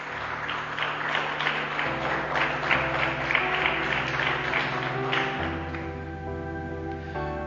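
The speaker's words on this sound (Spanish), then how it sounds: "Dele fuertes palmas a Jesucristo" A church congregation claps loudly and steadily for Jesus Christ during a Spanish-language sermon, a dense sustained applause with a sustained musical tone underneath throughout.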